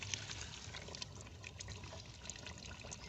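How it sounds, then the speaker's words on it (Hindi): Water pours steadily into a cooking pot of aloo gosht, a quiet splashing gurgle with occasional small clinks, close and faint. "तो मैं 1 लीटर पानी डाल रही हूँ इसके अंदर"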